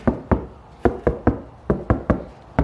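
Knuckles rap on a Ford Falcon body panel fitted with sound deadening, about ten dull, damped knocks in uneven pairs and groups, close and solid rather than ringing.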